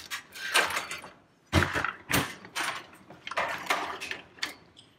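A Black and Decker toaster oven is pulled apart during a teardown, giving a series of close metallic rattles, clunks and scraping bangs as its door and panels come loose, with no talk.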